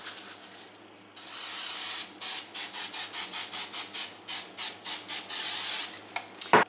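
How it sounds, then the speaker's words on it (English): Cooking spray misted onto a pan for a tater tot casserole: one long hiss, then a quick run of short, even bursts of spray, close and loud, ending in a few brief taps. "I'm going to spray my pan so it doesn't stick."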